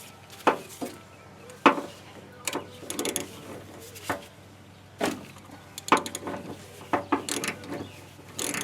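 Ratchet wrench turning out a spark plug on cylinder three of a 1968 Ford Bronco engine, heard as close, scattered bursts of mechanical clicking and scraping.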